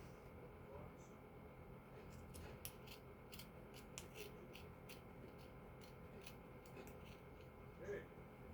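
Scissors snip a craft gnome's beard in a run of short, quiet cuts, a steady rhythm of crisp snips over faint background hiss, with no talking.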